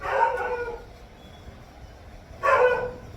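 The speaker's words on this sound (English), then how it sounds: "that's my doggy" A pet dog lets out two short, mid-pitched howling yelps indoors, the first at the start and the second after a quiet gap, with no one speaking.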